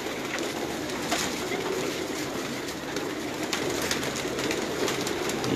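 Pigeons of a Sialkot breed cooing repeatedly in a loft, soft rounded calls near and far over a bed of rustling and background noise, with faint talk in the distance.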